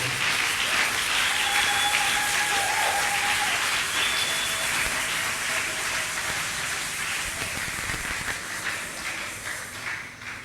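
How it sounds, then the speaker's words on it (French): A church congregation applauds and acclaims God in sustained, dense clapping that fills the room, steady and loud throughout before easing slightly toward the end. "Est-ce qu'on peut acclamer juste le Seigneur? Tu acclames ton Dieu."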